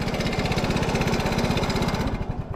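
Motorcycle engine running close and loud, with a steady throbbing pulse that barely changes and no voices over it.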